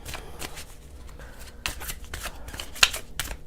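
Tarot cards being shuffled by hand in a quiet room, a run of soft riffling bursts and slaps with one sharper snap near the end, close and alone with no voice.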